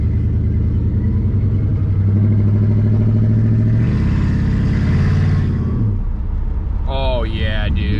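An LS-swapped Pontiac Firebird V8 idles close by with its new exhaust, a steady low rumble that swells for a moment before settling back, while someone talks over it near the end.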